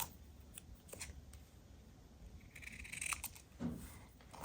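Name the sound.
scissors trimming a paper cutout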